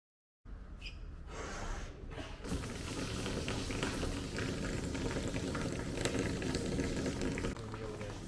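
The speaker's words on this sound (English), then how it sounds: "This just demonstrates how the autofill valve works. So once the tank is full, it pushes the ball up and shuts the valve and stops filling the tank." Water rushes and bubbles as it fills a tank through an autofill valve, a continuous close, hissing churn that starts abruptly and holds steady to the end.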